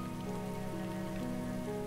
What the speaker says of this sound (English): The rain is an entity,